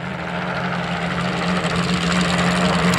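A racing boat engine with headers feeding a single pipe warms up at Webbs Slough, giving a loud, continuous, raspy low drone with a steady buzzing hum, heard alone.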